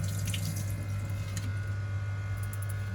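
Running water pours steadily from a tap into a sink as fish are washed, with faint splashing and a constant low hum in the background.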